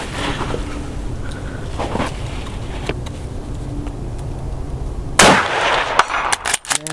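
A single sharp, loud gunshot from a French MAS-36 rifle at an outdoor range cracks out after several seconds of steady background noise, followed by a lingering rumble.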